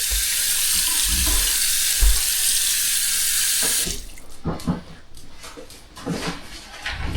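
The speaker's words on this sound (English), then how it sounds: "so we'll add more water" Water gushes steadily into a composting toilet container for about four seconds, then cuts off, followed by soft clunks and handling noises.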